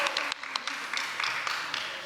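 Scattered audience clapping at a startup showcase, a loose patter of individual hand claps from a modest crowd, fairly light and fading slightly across the stretch.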